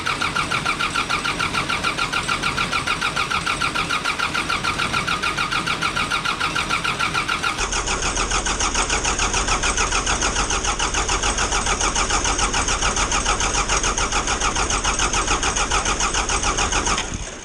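A John Deere generator engine cranks with a rapid rhythmic chugging, then catches and runs loud and steady up close for about ten seconds before cutting off abruptly at the end.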